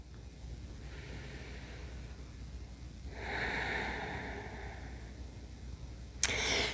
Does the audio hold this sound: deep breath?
yes